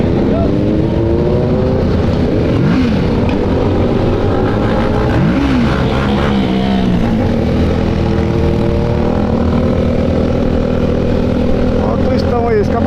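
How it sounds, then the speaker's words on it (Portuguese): A Honda Twister motorcycle with a straight-pipe exhaust revs loudly and close, its engine drone rising and falling in pitch without a break during a large motorcycle ride. "Olha o twistão aí, escapamento direto."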